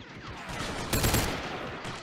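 Rapid gunfire in the Battle Simulator game with the Galaxy at War mod crackles as a dense burst of shots, loudest midway through and fairly close, with no talk over it.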